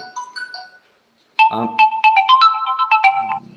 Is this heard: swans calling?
no